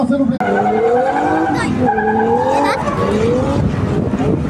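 Race car tires squeal in long, wavering screeches over a roaring engine, loud and close, with voices talking underneath; a BMW is among the cars.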